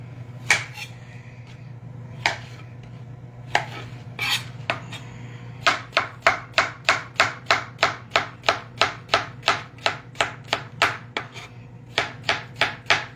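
A slightly dull knife chops food on a cutting board with a clunking impact, starting with a few scattered cuts and then settling into a steady, fast run of sharp, close knocks.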